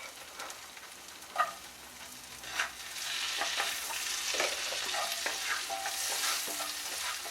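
Garlic sizzles in butter in the pan just used to sear a steak. A few light clinks come first, then a soft, steady frying hiss builds and holds.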